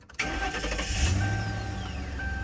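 A stolen car's engine cranks and catches after a short starter whir, then settles into a smooth, steady idle close by, with a faint high whine running through it.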